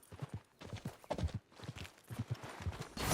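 Horse hooves clip-clop in a steady walking rhythm in the Western video game Red Dead Redemption 2, close and moderately loud, with a brief whinny-like moment and no speech over it.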